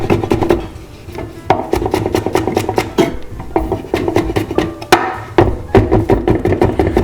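A knife chopping on a cutting board while preparing a paste for a roast turkey, with loud close knocks in quick uneven bursts and a steady scraping rasp between the strikes.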